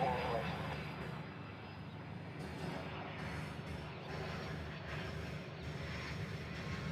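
A military aircraft taxiing at a Hawaii airfield during an air exercise: a continuous, loud engine roar and whine, with voices talking under it.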